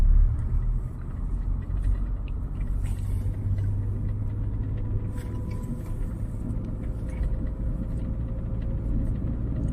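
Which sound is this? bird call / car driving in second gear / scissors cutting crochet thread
car driving in second gear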